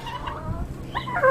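Backyard chickens, roosters among them, call out while being handed treats: a quick run of throaty clucks and gobble-like squawks, close by and fairly loud.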